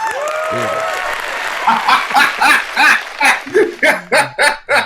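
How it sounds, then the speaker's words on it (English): Recorded applause played on a talk show swells under a voice, then gives way to short, rhythmic bursts of laughter and chatter up close. "The applause was a little late. It was delayed, but not denied."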